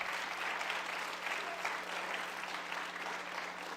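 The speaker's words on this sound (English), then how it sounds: "You can clap for that, absolutely." Steady, dense applause from a room of students and guests at a university address, a continuous wash of many hands clapping at an even level with no talk over it.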